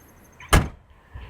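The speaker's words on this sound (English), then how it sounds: "Trunk closes nice, just like it should" The trunk lid of a 1988 Ford Mustang LX convertible with a 5.0L V8 shuts with a single solid, close thump, short and clean against quiet surroundings.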